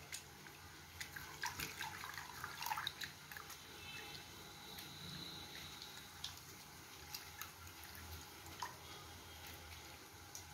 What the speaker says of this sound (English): Now we are going to wash this with water twice or thrice.